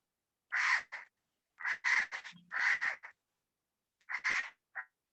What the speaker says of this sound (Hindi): ये कौवे की आवाज आ रही है?